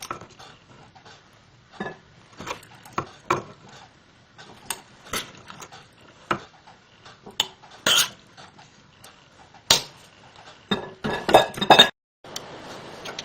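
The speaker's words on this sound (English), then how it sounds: "you can use a spoon to push it down further" A spoon pressing sauerkraut down into a glass jar, giving scattered sharp clinks and scrapes of metal on glass, quiet and close, irregular taps with short pauses between them.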